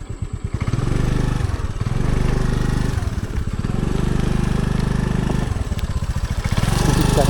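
A scooter engine strains and revs steadily as its wheel spins in thick mud on a rural path, a loud, continuous low drone with rhythmic chugging and brief dips between bursts.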